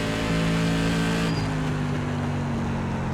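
SK Modified race car at Myrtle Beach Speedway in the iRacing simulator: a loud, continuous engine roar with a sustained high whine that shifts pitch mid-lap, heard alone with no voices.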